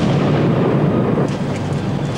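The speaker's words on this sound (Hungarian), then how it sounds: "Vigyázzatok, mindjárt robban!" An explosion set off on a film set for the action movie Die Hard, a loud dense roaring blast that rumbles on steadily for a couple of seconds with no voices.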